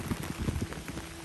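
Rain falls in California after a long dry spell, a soft, steady patter of drops striking a surface, faint and close, with scattered irregular taps and no talking.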